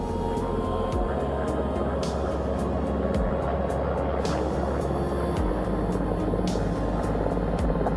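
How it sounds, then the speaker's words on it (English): A helicopter comes in to land on a ship, a constant low rotor rumble with steady rhythmic blade thumps throughout, fairly close. "The first helicopter coming in."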